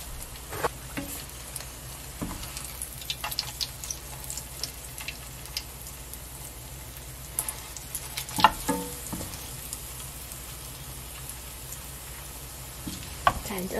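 Bread coated in breadcrumbs fries gently over low heat in a shallow layer of oil for toast, giving a faint, steady sizzle with occasional soft pops and handling clicks close by.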